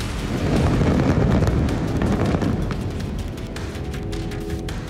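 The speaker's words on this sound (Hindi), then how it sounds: "पहली बार रिहायशी इलाके में 100 मीटर से ऊंची इमारत को विस्फोट से गिराया गया था।" A deep, rumbling blast from the explosive demolition of a residential twin-tower building over 100 metres tall rolls out and slowly fades into a long, crackling roar of collapsing debris.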